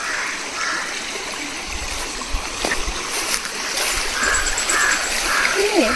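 Water from a hill stream trickles and splashes at close range, a light, uneven burble with a few brief chirps and faint sounds above it.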